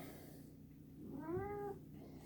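A single cat meows once, a rising then falling tonal call near the mic, heard alone over a low steady background hum.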